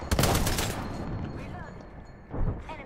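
Rapid automatic gunfire in Apex Legends, a loud burst of dense shots up front and another short burst near the end, with talking mixed in.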